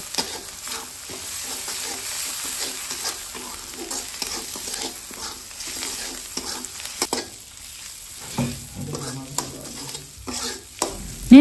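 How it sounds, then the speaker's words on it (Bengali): Spices with ginger-garlic paste and a little black pepper being stirred and fried in a pan, a steady close sizzle under repeated scraping stir strokes, with a few louder clanks near the end. "ইচ্ছা মতো নেড়েচেড়ে মশলা এখন ভালোভাবে কষিয়ে নেব।"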